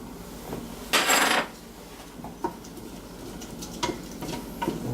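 Half an onion is dumped into a hot pan on a kitchen hibachi: one brief, loud rushing hiss, then a soft, steady sizzle broken by scattered light clicks and taps from the pan.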